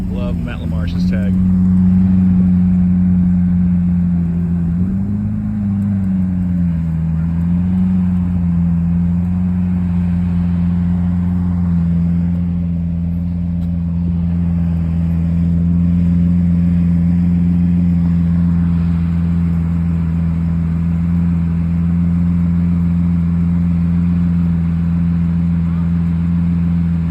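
Lamborghini Aventador engine at a car meet at Wild Heaven Beer West End, a close, loud revving swell early on, then a steady deep idle droning for the rest of the stretch.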